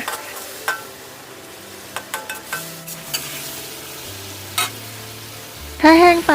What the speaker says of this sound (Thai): ซอสหอยนางรมประมาณ 1 ช้อนค่ะ ผัดให้เข้ากันนะคะ